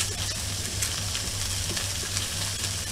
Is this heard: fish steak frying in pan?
yes